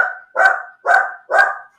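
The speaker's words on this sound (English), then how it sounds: "That's a dog. That's our dog." A pet dog barks three times in a steady rhythm, each bark loud and close, with short silent gaps between them and no talk over them.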